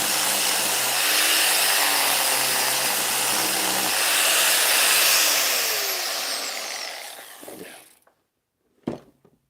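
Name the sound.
angle grinder used as a sander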